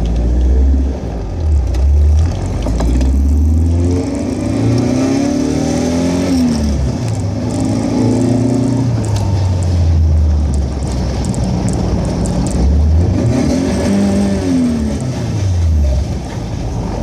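A Toyota AE86 engine with about 150 horsepower at the wheels revs up and down in repeated rising and falling sweeps, loud and close, with no talking.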